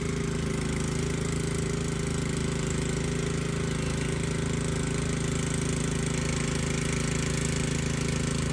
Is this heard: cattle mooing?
no